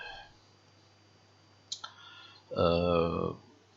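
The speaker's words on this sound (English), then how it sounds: "just double click" Computer mouse double click, two quick sharp clicks in close succession, close and fairly faint, followed by a person speaking.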